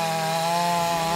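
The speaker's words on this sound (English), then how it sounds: "The sounds of moving equipment and chainsaws now fill the air of Dawson Springs" A chainsaw cuts wood during tornado cleanup in Dawson Springs, Kentucky, a loud, steady, buzzing engine whine held continuously close by with no break.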